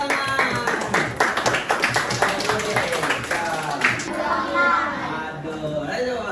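Classroom applause: a quick run of many hands clapping in uneven rhythm, close and lively, then tapering off as voices of students and a teacher talk over the room.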